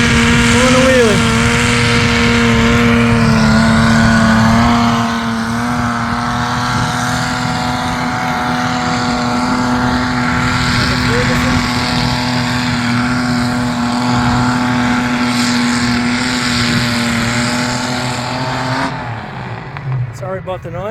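Vintage Ferguson tractor engine at a vintage engine rally, doing a wheelie: a loud, close, steady droning roar that holds for most of the stretch, then cuts off near the end.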